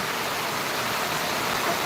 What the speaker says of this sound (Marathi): पावसाचं स्वरूप विराट असं धरलेलं आहे